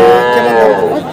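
Young calves lowing at a busy cattle market, Ambari haat in Dinajpur; one close, drawn-out moo with harmonic layers stretches across the moment, with faint crowd chatter in the background.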